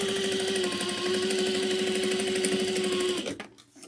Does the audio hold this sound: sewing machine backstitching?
yes